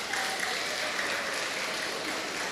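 A church congregation applauds during a wedding ceremony at a Sunday worship service, a dense, steady wash of many hands clapping at once, sustained evenly throughout with no talk over it.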